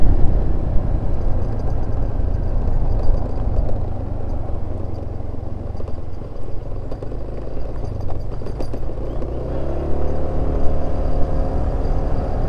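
Automatic scooter engine on a steep mountain road, a steady loud drone with rising revs toward the end, close and continuous with road rumble.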